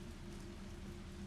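Heavy rain in Resident Evil 3 Remake pours as a constant, dense hiss over a low, steady rumble, unbroken from start to end and with no voices.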